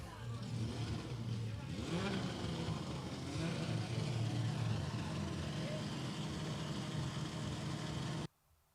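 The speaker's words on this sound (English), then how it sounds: "The engine is on, we have an okay." Formula Student race car engine running at an autocross event, with rev swoops and a steady idle drone under talk and crowd noise, then cutting out abruptly near the end.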